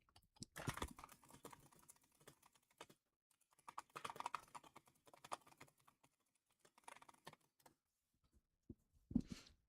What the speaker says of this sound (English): Better hear typing than have vocals muffled.